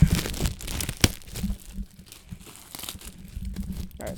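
Packaging torn open by hand for a Star Wars Smuggler's Bounty box, with close, loud crinkling and ripping bursts that come in quick irregular pulls, sharpest near the start and around the one-second mark.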